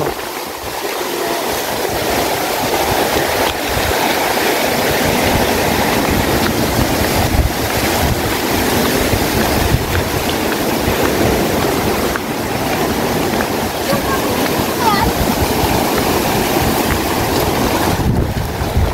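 Rough sea waves wash against a harbor, a continuous loud roar of surf and water mixed with heavy wind buffeting the microphone throughout, with no voices.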